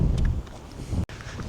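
Gusty wind buffets the microphone on a steep hilltop climb at Mow Cop, a loud, continuous low rumble with a brief dropout near the middle.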